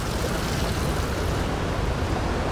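Small waterfalls near the railway station in New Athos, Abkhazia, give off a steady, dense rush of falling water, loud and unbroken throughout, with no voices.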